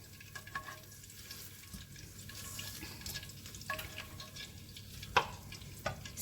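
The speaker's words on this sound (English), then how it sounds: "I'm going to go in with my water, and I like to add warm water to my meat" Warm water pours onto browned steak in a pan for Jamaican-style peppered steak, setting off a steady close sizzle and bubbling with a few sharp crackles and clinks.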